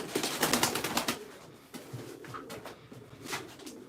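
A flock of pigeons in a loft coos and shuffles nearby, a busy burst of overlapping calls and wing rustles that eases into quieter scattered cooing.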